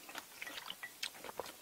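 Quiet, close chewing of vegetables from a tray of jajangmyeon during a mukbang, with soft irregular crunches and wet mastication sounds.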